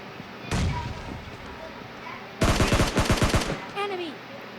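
Gunfire from PUBG Mobile Lite as two enemies are knocked down inside a house: one sharp shot, then a rapid burst of about eight loud close shots, with faint game sounds and a voice in the background.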